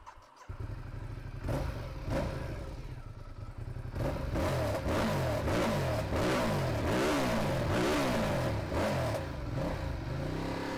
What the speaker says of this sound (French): c'est des vraies accélérations, ça fait un bruit du tonnerre